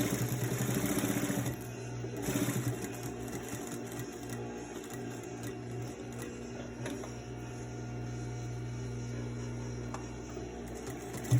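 A sewing machine stitches along the edge of a fabric face mask after turning the corner, its motor running in a steady, close whir with a short break near the start, then continuing evenly with no talk.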